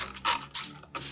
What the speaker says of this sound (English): I'm going to grab my spray bottle with water and